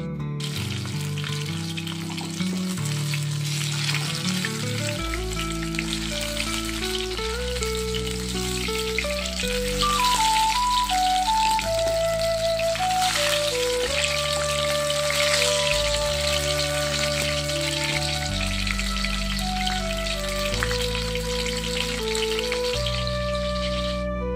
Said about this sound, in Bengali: এখানে নিয়েছি লইট্টা মাছ, এই যে অলরেডি কয়েকটা ভাজছি